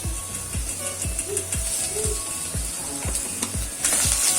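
Browned onion sautéing with ginger garlic paste and green chilli paste for khichdi, a dense continuous sizzle with regular rhythmic scraping strokes of a spatula against the pan, close and steady, no talking.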